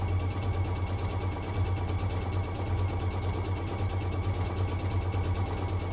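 Sewing machine running flat out on a straight-line stitch, a fast, even mechanical chatter and steady motor hum that never pauses, fairly faint and close, with no talking.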